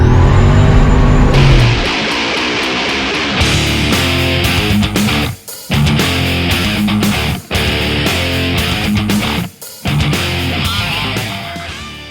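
Turbocharged 363 Foxbody Mustang engine revving hard on boost, loud and close, with sustained high-rpm pulls broken by brief throttle lifts and sharp drops before climbing again.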